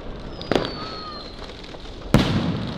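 Zinc firework rockets burst overhead on New Year's Eve in the Netherlands, two loud, sharp booms about a second and a half apart, with crackling and whistling trails fading between them.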